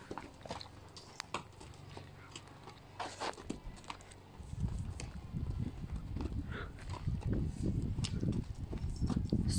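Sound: horse walking, hooves clip-clopping

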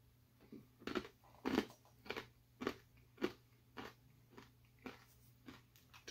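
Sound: crunching hot corn nuts

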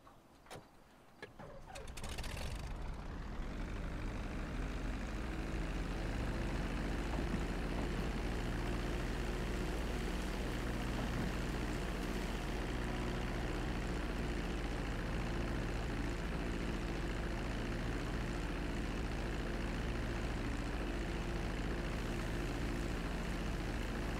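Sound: airplane engine in the video game GTA V

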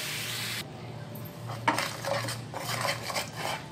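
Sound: stirring sugar caramel in a pan over low flame

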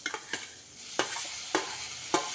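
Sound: tomato added to sizzling ridge gourd kootu in pan

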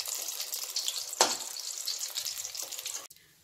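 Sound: vegetable roll frying in oil at low to medium flame

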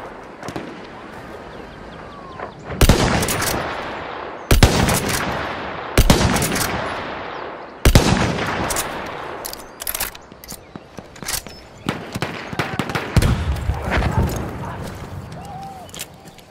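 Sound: machine gun fire in a Battle of the Somme video game

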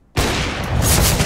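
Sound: grenade explosion in video game Counter-Strike: Global Offensive

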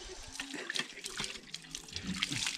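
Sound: water running while scrubbing a pot with a Vim bar

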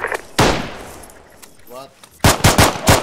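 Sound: machine gun fire in a video game

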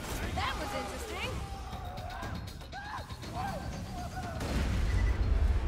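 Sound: Sandhawk SMG firing split bullets in Borderlands 2 video game

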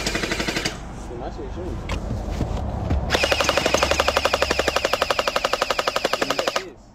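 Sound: splat gel blaster toy gun firing

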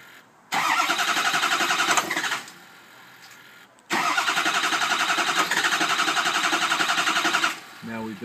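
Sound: Ford 6.0L diesel engine cranking and starting

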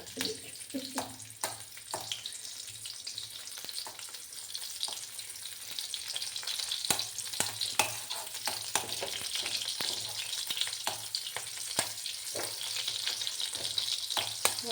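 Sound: chopped ginger and green chili frying in a pan for pineapple pickle

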